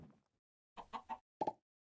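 Minecraft chicken clucking, a few short clucks in two quick bursts separated by silence, clear and fairly close.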